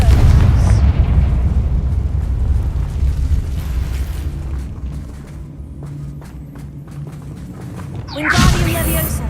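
Fiery blasting spell cast in Hogwarts Legacy, a heavy rumbling boom that swells and slowly decays, then a second sharp burst near the end, loud and close with game ambience underneath.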